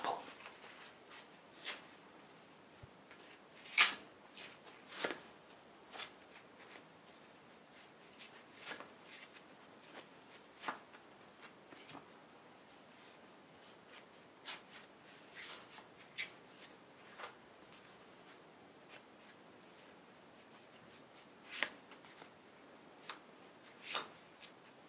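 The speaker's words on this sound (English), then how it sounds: "I'm just going to give the cards another little shuffle." Playing cards shuffled by hand in a quiet close-up magic setting, producing soft, scattered riffles and snaps spread across the clip, faint and intimate with no talking.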